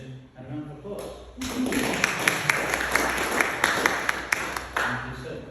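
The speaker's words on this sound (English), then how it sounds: "I think that deserves a mention and a round of applause." Enthusiastic applause from an audience at a book launch, rising after a moment and continuing with scattered sharp claps, while a voice talks over it.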